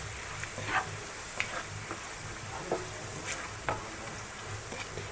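Ground masala stirred into prawn curry in a hot pan, a soft steady sizzle of frying with scattered scraping clicks from the spoon, fairly faint and with no voices.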